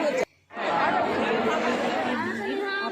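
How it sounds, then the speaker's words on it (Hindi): Dense crowd chatter at a Chhath Puja ghat, a loud continuous wash of many overlapping voices after a brief cut-out, close and unbroken to the end. "आपको क्राउड भी सुनाई दे रहा होगा,"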